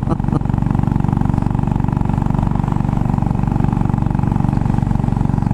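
Steady, rhythmic thump of a Royal Enfield Bullet single-cylinder engine while riding, loud and continuous with wind noise mixed in.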